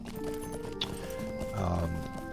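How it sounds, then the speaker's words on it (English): Horse hooves from the Lord of the Rings Online video game, soft steady clip-clop of a riding horse under continuous game music and ambience, with a brief snort-like sound near the end. "we will take a horse ride down"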